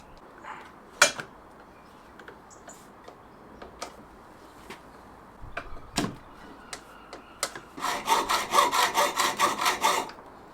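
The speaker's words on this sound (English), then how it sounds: "I've not cut box section before, but I think it should be okay to get through with a hacksaw" A hacksaw cuts through steel box section in a workshop for a camper van seat install, with scattered knocks and scrapes before a run of about a dozen fast, even strokes near the end, close and fairly loud.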